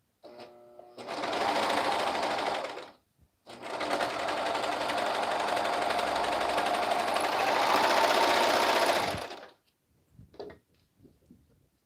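A sewing machine stitches seams on handmade items in two long, steady runs of whirring close by, a short pause between them, then a few light clicks as it stops.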